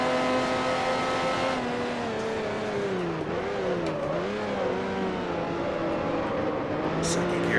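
A sports car engine in the racing game Grand Prix Legends drones loud and steady, its pitch dipping and climbing through a gear change, with no talk over it.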